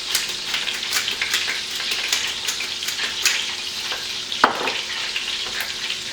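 Meat fries in a covered pan with a steady, close crackling sizzle throughout, broken once by a sharp click.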